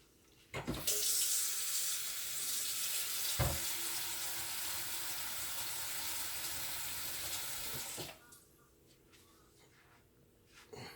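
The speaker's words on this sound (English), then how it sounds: "And we're going to add us some more water as well." Tap water rushes into a cooking pot of goat stew with potatoes and onions, a loud steady pour lasting about seven seconds before it cuts off, leaving quiet kitchen sounds.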